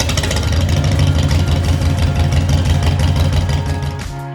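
A 2016 Harley-Davidson Street Glide engine idles while warming up before an oil change in a garage, giving a loud, steady, loping low rumble that eases off slightly at the end.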